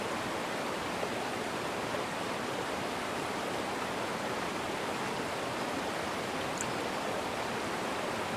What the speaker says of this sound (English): a bit of waterfall sounds and all that sort of stuff